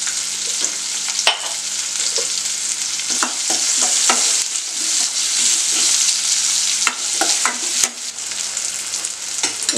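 Small onions with salt sautéing in a pan, a steady close sizzle punctuated by repeated spatula scrapes and clicks against the pan.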